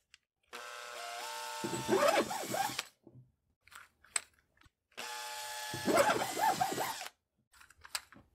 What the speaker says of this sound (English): To round off one end, I'll chuck it in a drill and run it along this file.